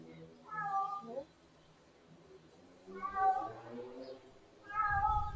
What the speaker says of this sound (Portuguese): o gato tava quieto até agora, ele quis fazer um escândalo